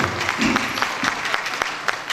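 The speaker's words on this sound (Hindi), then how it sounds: "बहुत ज़ोरदार तालियों से उनका स्वागत कीजिए" Audience at a ghazal club event claps to welcome the organizers, a brief scattered round of applause with a few distinct louder claps, moderately close and fading quickly within two seconds.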